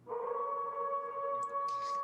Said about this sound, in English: an animal, maybe a wolf, howls into the night, and the cry is answered almost immediately by another